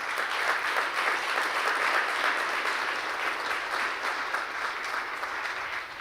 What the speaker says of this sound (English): have you given her any applause yet for everything she's done to pull this together?